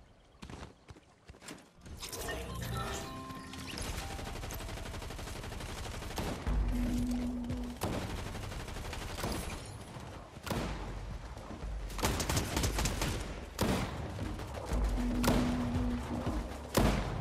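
Shotgun gunfire in the Fortnite video game, with dense bursts of booming shots and thuds spread over a long busy stretch and no talk over them.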